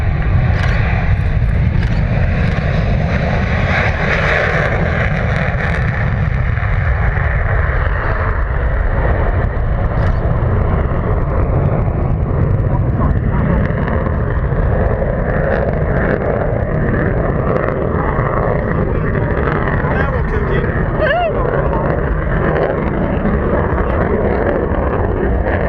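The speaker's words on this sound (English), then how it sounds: "rolling now, the Saab AJS-37 Viggen." Saab AJS-37 Viggen jet rolling for takeoff at an airshow, a loud continuous broadband roar with wind buffeting that holds steady throughout, with no voices.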